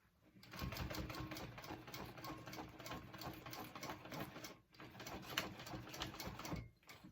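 A sewing machine stitches a flap on a zip bag project, running in a fast steady whir with a rapid needle patter for several seconds, briefly pausing and stopping near the end, fairly close and alone.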